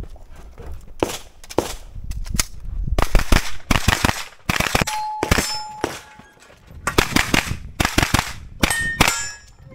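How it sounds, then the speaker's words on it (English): Rapid strings of gunshots ring out at a practical shooting stage, with sharp bursts clustered in quick volleys separated by short pauses and occasional metallic clangs from steel targets, loud and close throughout. "There was only one shot on the steel. No, it was three."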